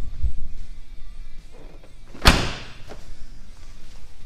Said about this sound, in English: the door actually closes pretty good.